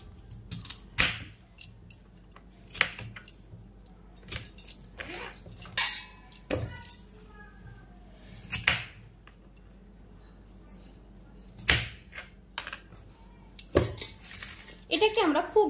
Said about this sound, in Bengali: বাকি আলুটা কেটে নেব।